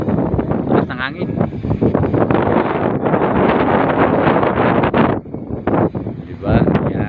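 Strong wind high above Manila buffets the microphone in loud, continuous gusty rumbling, with a voice speaking over it.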